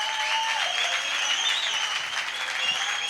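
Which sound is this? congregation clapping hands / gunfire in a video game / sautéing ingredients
congregation clapping hands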